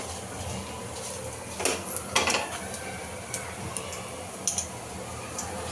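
Chillies being stirred and sautéed in a pan for Mysore masala dosa, light metallic clinks and scrapes of a spoon against the pan, a few distinct taps over a soft background sizzle.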